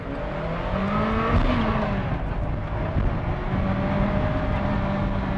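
Ferrari F40 accelerating hard, its engine roaring loud and close with rising revs broken by gear changes, a continuous throaty drone with no talk over it.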